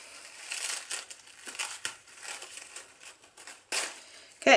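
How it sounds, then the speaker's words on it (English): Packaging crinkles and crumples as a package is opened, a run of soft, irregular rustling bursts with brief pauses, ending in a sharper, louder crackle close by. "So we'll open this package first."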